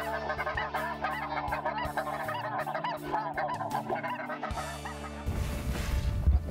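Many snow geese honk together in a dense, overlapping chorus in Central Illinois, with a low steady hum underneath and a burst of rustling noise near the end.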